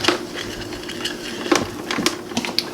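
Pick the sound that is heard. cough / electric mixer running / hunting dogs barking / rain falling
electric mixer running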